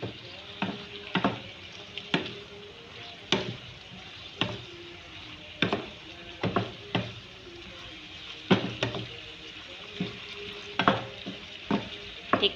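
Ground beef stirred and broken up in a frying pan for an Arabic béchamel pasta, with repeated scraping and clacking strokes of a spoon at an irregular rhythm over a soft, steady sizzle, close and moderately loud.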